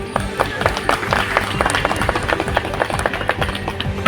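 Crowd applause at an outdoor welcome ceremony held at a vegetable market police station on 26 January for a Dronacharya award winner, dense steady clapping running throughout with background voices and tonal hum beneath.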